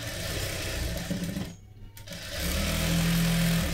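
A sewing machine stitching the edge of a blouse, loud close motor whir with rapid needle chatter, a short pause in the middle, then a steady run again.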